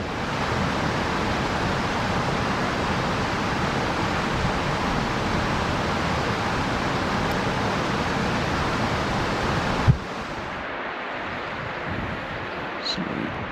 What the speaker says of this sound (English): it's pretty bloody windy even down here